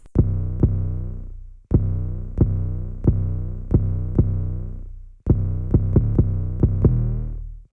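A deep, sustained 808 bass plays a rhythmic pattern of long booming notes that decay slowly, with short punchy attacks marking each hit.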